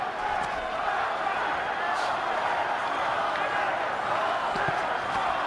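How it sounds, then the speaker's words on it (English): A large boxing arena crowd roars and chants steadily for its fighter, a sustained wash of massed voices at even loudness, with faint thuds and calls poking through. "Crowd chanting for their man"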